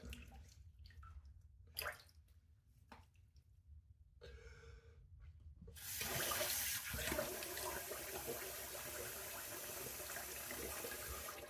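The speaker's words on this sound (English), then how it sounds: "I'm going to rinse with warm water, and then I'm going to rinse with cold water" Tap water runs steadily into a bathroom sink as a face is rinsed after a shave with Cella soap and a Henson AL 13 razor, starting with brief splashes and turning into a loud continuous stream.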